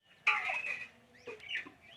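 Chickens cluck nearby in two short bursts of calls, a louder squawking run followed by a quieter pair, heard alone against a faint background.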